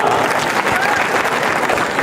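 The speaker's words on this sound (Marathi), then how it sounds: "त्यांच्यासाठी जोरदार टाळ्या वाजवा" Dense, continuous applause from a large crowd at a political rally, loud and sustained throughout.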